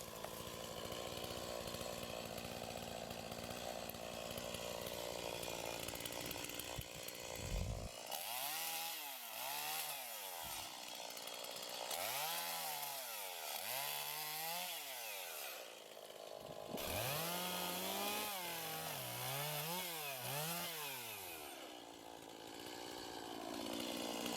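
A chainsaw cuts up a whole small tree, its engine revving up and down in repeated rising and falling surges as it bites through wood, loud and close with no talk.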